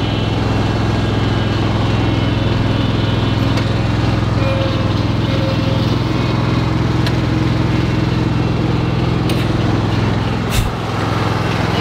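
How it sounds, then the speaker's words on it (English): A lawn mower idles loud and close while creeping forward on its own, its engine droning steadily and evenly throughout with no talk. "Mower is doing the creep."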